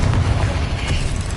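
Confringo explosion spell cast in the video game Hogwarts Legacy, a dense low booming blast that fills the whole short moment at steady loudness.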